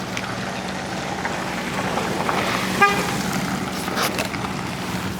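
A car being locked on a street, giving a single short horn beep partway through, set against steady outdoor traffic and ambient noise.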